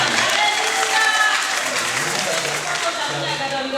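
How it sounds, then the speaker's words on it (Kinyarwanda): A church congregation breaks into applause, dense steady clapping from many hands filling the room for a few seconds, with a voice faintly audible beneath. "dukomere amashyi"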